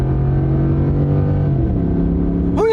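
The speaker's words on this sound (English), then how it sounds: "Listen to that V8." Ford F-150 pickup's V8 engine accelerating hard on a drag strip, a loud deep rumble climbing steadily in pitch, then a quick drop and fresh rise as it shifts gears near the end.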